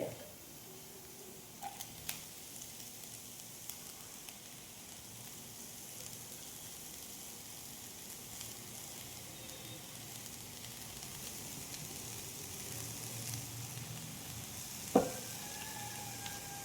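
Chopped spinach sizzling in a pan for a spinach and egg thoran, a low steady frying hiss with a few soft stirring clicks and one sharper clatter near the end, no talking.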